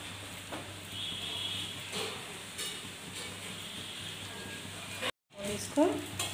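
A paneer paratha cooks on a hot griddle just after being flipped, giving off a steady soft sizzle with faint crackles, broken by a brief silent gap near the end.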